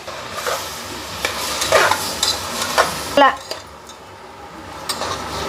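Mutton keema is stirred in a pan with salt and turmeric, giving a close sizzling fry with repeated scraping of a spoon against the pan and a few metal clinks.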